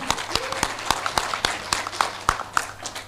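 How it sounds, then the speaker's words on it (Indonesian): Scattered applause for a speaker at an Indonesian political gathering, a handful of sharp individual claps at a loose, uneven rhythm over a low hum and faint voices. "sekali lagi tepuk tangan dong buat Mas Ganjar"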